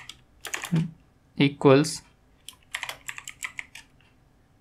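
Computer keyboard keys clatter in quick irregular bursts while Android app code is typed, with someone talking between and over the keystrokes.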